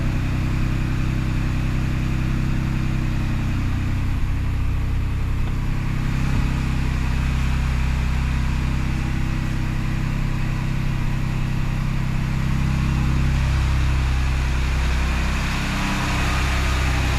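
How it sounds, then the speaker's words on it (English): A Ford Bronco engine idles steadily after starting, a continuous mid-pitched running drone with a low rumble that stays even and close throughout. "I'll go ahead, start the engine"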